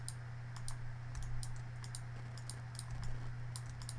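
Sharp, light computer mouse clicks in small irregular bursts, up close over a steady electrical hum, with no talking.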